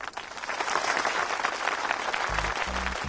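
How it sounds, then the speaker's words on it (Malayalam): Applause in a movie scene: a crowd claps continuously and fairly loudly, a dense steady patter that holds throughout, with a few low thumps near the end. "കയ്യടി നിർത്താൻ പറയൂ."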